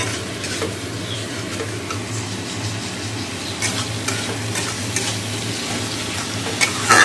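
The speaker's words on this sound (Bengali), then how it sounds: "আর এক হাতে খুন্তি নাড়ছি" A spatula stirs chickpea ghugni in a kadai, giving a constant close frying hiss with scattered scraping clicks from the spatula against the pan.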